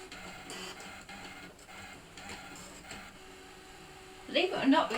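A Brother ScanNCut DX cutting machine hums and whirs through a calibration run, its carriage motor making repeated soft mechanical passes, with a sharper rattling burst near the end.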